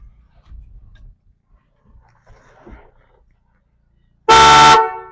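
After a few seconds of faint rustling and breathing, a loud, bright musical car horn on a Ford Maverick blares once for about half a second, rich with tonal harmonics.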